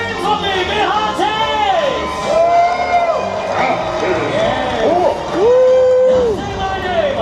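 An audience screaming and whooping at a Disney Maleficent villains show at Hollywood Studios, loud rising and falling screams from many voices layered with shouting.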